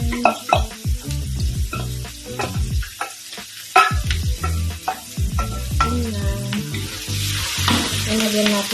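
Shredded chicken stir-fried for pansit bihon sizzles loudly and constantly in the pan, with a stream of quick spatula scrapes and clacks close by, no voices over it.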